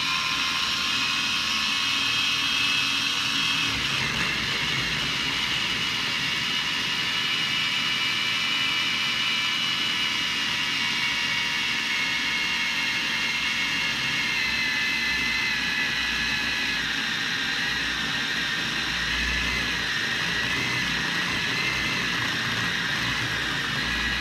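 A food processor runs nonstop, blending cold butter into low-carb pesto cracker dough, giving a loud, steady motor whine and whir close by.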